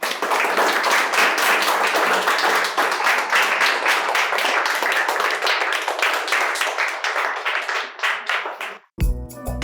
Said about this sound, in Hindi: So we should all clap for him.